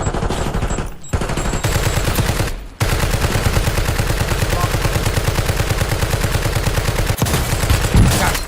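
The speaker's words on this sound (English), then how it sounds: "They're sniping me." Gunfire in Call of Duty Warzone, loud continuous rapid shots rattling nearly nonstop, broken by a couple of brief pauses.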